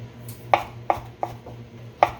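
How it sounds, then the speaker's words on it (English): A knife thinly slicing Chinese-style barbecue pork on a cutting board: five crisp, evenly spaced chops, close and clean, with no voices. "So I'm just gonna cut these kind of thinly."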